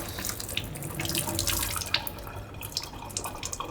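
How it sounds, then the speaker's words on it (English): Olive jar brine pours steadily into a kitchen sink, a continuous close splashing trickle of liquid onto the basin with no talking, lasting a few seconds. "I'm just gonna drain these straight in the sink."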